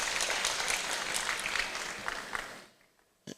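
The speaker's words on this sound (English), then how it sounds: "A round of applause for His Royal Majesty." A dense round of audience applause greets the King at a formal ceremony, loud and steady for over two seconds before fading out to near silence, ending with a single sharp knock.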